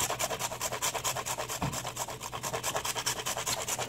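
Whole nutmeg is grated by hand in quick, even strokes, giving a close, soft, rhythmic rasping that repeats about six times a second with no talking.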